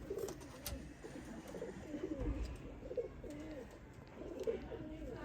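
Pigeons cooing nearby in a loft, repeated soft rolling coos overlapping one another in a steady rhythm, with faint background noise and brief speech.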